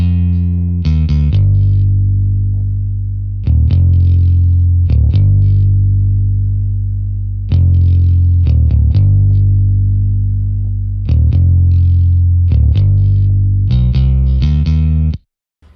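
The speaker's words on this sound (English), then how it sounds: "is the Scorby Rickenbacker bass in Contact" A Scorby Rickenbacker-style bass plays a clean, punchy melodic line of sustained low notes with short gaps between phrases, loud and close, shaped by chorus and effects, alone without any voices.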